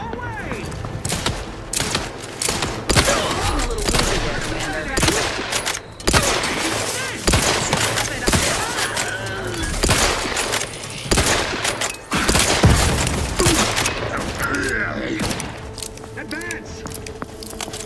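A grenade thrown during a firefight in the video game The Outer Worlds 2, amid sustained bursts of rapid gunfire and sharp impacts, loud and dense throughout, with voices calling out over the shooting.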